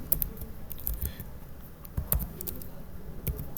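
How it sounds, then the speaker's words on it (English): Quick, irregular clicking of keys on a computer keyboard, close and fairly soft, with short bursts and brief pauses as an equation is typed out. "So I'm going to type it again here."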